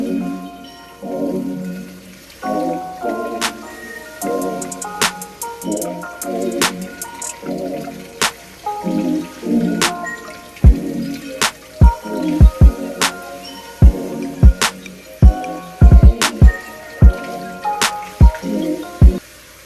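Kale and strawberries are washed one by one in a bowl of water in a sink, giving repeated splashing, sloshing and sharp dripping sounds at close range, with no talking.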